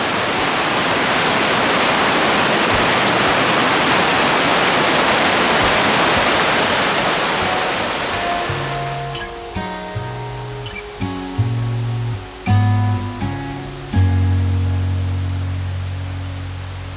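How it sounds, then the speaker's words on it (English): Loud, steady rushing of a waterfall on the Taggart Lake trail in Grand Teton National Park fills the first half, then gives way to tonal musical notes. "you just hear that running water all throughout back there"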